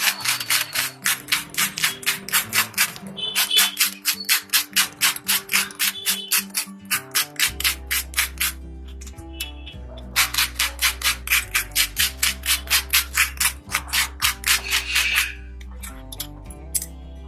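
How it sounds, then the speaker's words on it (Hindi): A crispy fried aloo matar snack is bitten and crunched in a quick, steady rhythm of close crunches, pausing briefly midway, with background music underneath. "इसकी मैं आवाज़ भी आपको सुनवाऊंगी बहुत ही मतलब इतना क्रिस्पी है"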